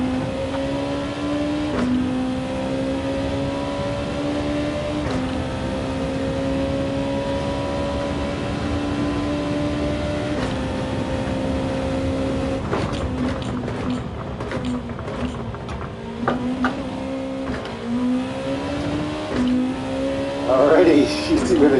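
A race car's engine in a racing video game drones and revs steadily, its pitch rising and dipping with gear changes and occasional tire squeal, loud and continuous.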